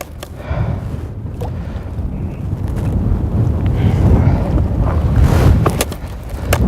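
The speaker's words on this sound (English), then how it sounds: "even though it's a little windy out today" Strong wind buffets a microphone out on a frozen lake during ice fishing, a loud continuous roar that rises and swells with gusts and has no speech over it.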